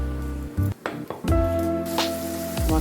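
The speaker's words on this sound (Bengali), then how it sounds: "মশলাটা দিয়ে দিলাম, এবারে ভাজা ভাজা করবো।" Spice paste sizzles as it hits hot fat with cumin seeds in a pan while cooking pointed gourd in a Bengali kitchen, with short bursts of frying, stirring scrapes and a steady background hum.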